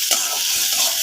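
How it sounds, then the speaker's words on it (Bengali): Garlic, onion and green chillies fry in a pan, a bright steady sizzle with a brief stirring scrape near the start, close and alone. "এই তো এখন শুকনো মরিচটা ওঠানোর পরে এইগুলো ভেজে নেব"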